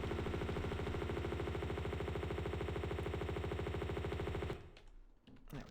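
Enemy gunfire in Tomb Raider II Remastered, set in the Tibetan Foothills, rattles in a loud, steady rapid-fire burst for over four seconds, then cuts off, leaving quieter scattered game sounds.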